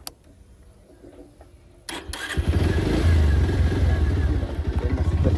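A motorbike pulls up nearby after a quiet start, its engine rising into a loud, steady, throbbing rumble that continues to the end.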